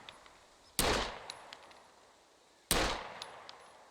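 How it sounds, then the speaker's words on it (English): Two pistol shots fired at a target in the video game SCUM, each a sharp loud crack with a decaying tail, spaced about two seconds apart over a quiet background with faint ticks. "Take it in our hands, turn around, and we'll take a couple of shots at this nice target down here"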